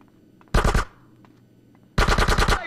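Automatic gunfire in GTA San Andreas: a short rapid burst of three or four loud shots, a pause, then a longer burst of about six shots, punchy and close.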